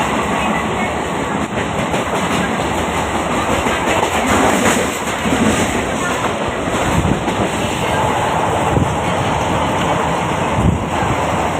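A train rolls along its rails with steady rumbling and faint clickety-clack, a continuous loud interior wash of noise with no talk over it.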